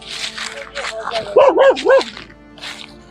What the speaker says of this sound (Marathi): ते बघा ते कुत्रं भुकतंय